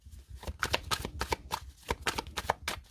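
Tarot cards shuffled by hand in a rapid run of crisp, papery riffling bursts, close and fairly loud, with no talking.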